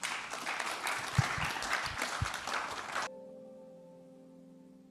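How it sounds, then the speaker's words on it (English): Audience applause at the close of a symposium panel discussion on adoption: dense, steady clapping from a seated crowd for about three seconds, then cutting off abruptly to quiet room tone. "If you'd kindly give them a round of applause."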